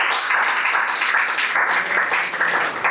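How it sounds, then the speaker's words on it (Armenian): Church congregation applauding; dense, steady clapping from a crowd fills the room at a loud, even level throughout. "եկեք բարձր ծափարենք Աստծո։"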